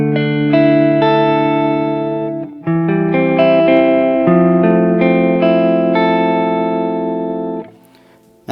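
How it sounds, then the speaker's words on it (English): A DBG Aurora electric guitar on its neck pickup plays clean, sustained chords through a Stage Right tube amp, ringing notes changing in a slow sequence before fading out near the end. "I'm using my DBG Aurora plugged straight into the front of the StageRite amp in my neck pickup"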